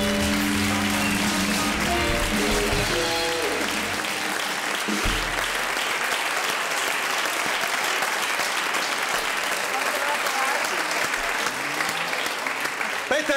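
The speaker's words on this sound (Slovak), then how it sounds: "Tak poprosím potlesk." Studio audience at a Slovak late-night talk show breaks into loud, sustained applause that fills the room, with a brief musical sting at the start fading under the steady clapping.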